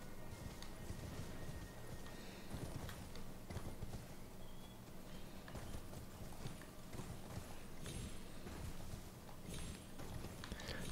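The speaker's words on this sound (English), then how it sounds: "I'm making my escape via horse." Horse hooves galloping in the action role-playing game Elden Ring, in the Caelid region: a fast, steady run of clip-clopping hoofbeats, close and continuous over a dense, noisy game soundscape.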